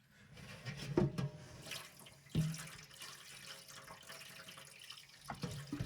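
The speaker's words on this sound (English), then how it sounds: "we gotta drain out all this water without losing a bunch of your eggs" Water drained off salmon eggs in a glass cake pan, a quiet clip of soft pouring and sloshing with a few brief splashy bursts.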